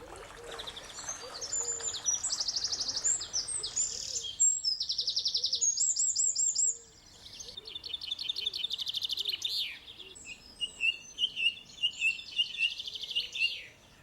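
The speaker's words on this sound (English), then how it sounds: "the sheer amount of bird song is just absolutely phenomenal" Rich, layered birdsong in the wildlife-filled garden at Highgrove, with several birds overlapping in bright trills, chirps and repeated phrases, close and lively, plus lower cooing calls and no talk.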